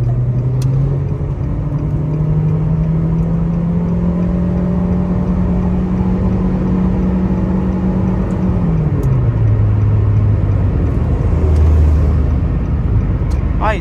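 A Nissan Versa 1.6 CVT drones steadily from inside the cabin as it accelerates to overtake. The engine note holds, then drops near the end, with road rumble throughout and no voices.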